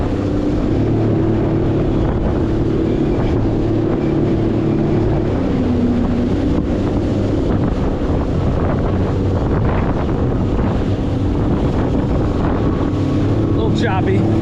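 A jet ski runs across choppy ocean water with a steady engine drone under heavy wind buffeting and the rush of water, all loud and close for the whole stretch.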